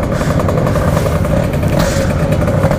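Loud, steady motorcycle engine noise with clattering, rough revving from several bikes, among them a Kawasaki Ninja RR, continuing without pause and with no voices.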